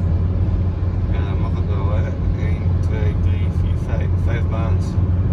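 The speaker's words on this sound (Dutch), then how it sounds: "Zo weer aardig wat verkeer op de weg." Steady road traffic hum from inside a moving car on an early-morning highway, a constant low engine and tyre rumble with passing vehicles, while people talk over it.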